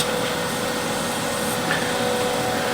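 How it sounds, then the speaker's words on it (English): Steady high-pitched whine of a woodturning lathe spinning a wooden wheel while a tool chamfers its hole, continuous and close with a faint scraping texture and no pauses. "I'll just chamfer the hole here"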